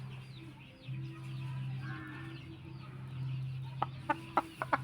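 A tame hen clucks softly nearby, low steady murmurs building to a few short sharp clucks near the end against quiet background.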